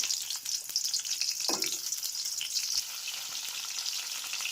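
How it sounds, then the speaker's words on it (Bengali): Onions sizzle in hot oil in a pan with a constant bright crackling hiss, close up, broken by a brief stirring clink and a soft knock, with no voices. "এবার দিয়ে দিব তেল, এবার দিয়ে দিব পেঁয়াজ"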